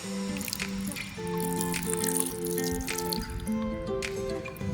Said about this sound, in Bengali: লেবুর রস দিয়ে দিচ্ছি